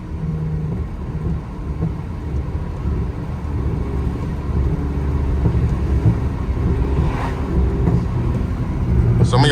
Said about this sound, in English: It started raining hard again, so I had to roll up my window.